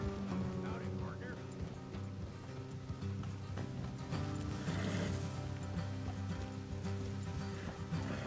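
Horses in the video game Red Dead Redemption 2 whinny and snort amid clip-clopping hooves and outdoor ambience, with characters talking over the animal sounds.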